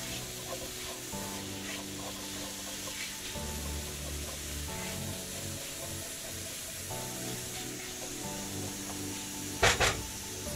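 Chopped onions sizzle and fry in a pan, softening for chicken cheese patties, a steady soft hiss throughout with a brief louder stir or scrape near the end.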